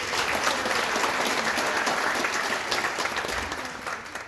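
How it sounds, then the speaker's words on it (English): A room of people at a community development meeting in Manchester, Georgia, giving a round of applause, a steady crackle of many hands that carries for several seconds and tapers slightly at the end. "Can we give him a round of applause?"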